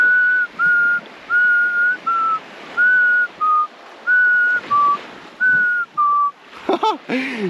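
A person whistles a steady repeating two-note pattern, clear and close, then breaks off into a few quick sliding chirps.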